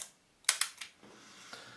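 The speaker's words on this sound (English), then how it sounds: "Fire the shutter, and then so." Shutter of a Rolleiflex 3.5F twin-lens camera with a Carl Zeiss 75mm f/3.5 lens firing, heard as a couple of quick, sharp, close mechanical clicks followed by a faint softer click in an otherwise quiet room.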